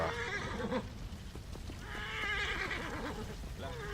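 In the video game Assassin's Creed Origins, a horse that has caught fire whinnies in a drawn-out, wavering neigh, then neighs again moments later over a constant backdrop of game ambience.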